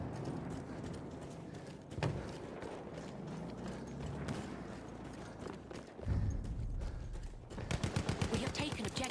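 Rapid bursts of enemy machine gun fire ring out in Battlefield 1, a sustained rattling string near the end over a busy battlefield din with clattering thumps throughout.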